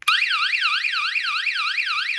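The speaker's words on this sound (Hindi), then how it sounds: "ठीक है, पैनिक अलार्म है।" GSM security system panic alarm sounding loud and close, a rapid warbling electronic siren sweeping up and down in a fast repeating cycle with no other sound.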